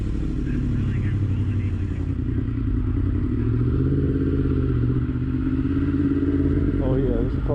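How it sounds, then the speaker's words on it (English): A Senna motorcycle with a newly adjusted clutch rumbles steadily while being ridden, a continuous low engine drone mixed with wind buffeting and occasional clatter, close and loud for the whole stretch. "Can you hear the bike?"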